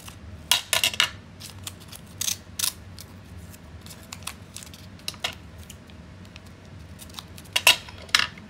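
Scissors snip through washi tape in a few quick, close cuts, with small paper-handling rustles between them and no talking.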